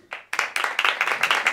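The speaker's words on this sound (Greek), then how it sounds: "Ένας εδώ χειροκροτάει με καμάρι." A lone audience member at a comedy show claps proudly, a quick run of about a dozen sharp, close hand claps after a single opening clap.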